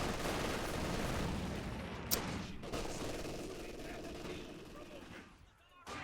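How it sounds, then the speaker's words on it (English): Sniper fire rings out during a Company of Heroes 2 battle: a sharp crack stands out against dense, continuous combat noise from other gunfire and explosions, then the din thins briefly before another burst. "Sniper opens fire, of course."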